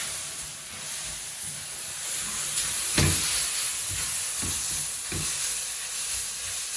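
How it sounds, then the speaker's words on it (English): Onions caramelising in a pan give off a steady, close frying sizzle and hiss, with a few soft knocks of stirring along the way. "As these onions caramelise"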